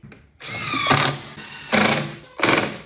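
Power tool screwing the fuel tank back onto a Victa two-stroke mower engine, three short whirring bursts of the driver motor separated by brief pauses, close and fairly loud.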